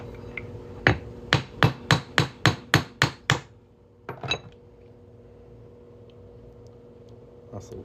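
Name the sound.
hammering a punch through a Texas quarter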